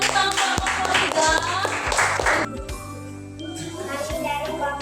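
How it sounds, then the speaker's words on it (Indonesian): Classroom applause for a student discussion group, quick bright clapping from several hands over a background of tones, strongest at first then fading to a quieter patter as a voice begins. "tepuk tangan untuk kelompok 3"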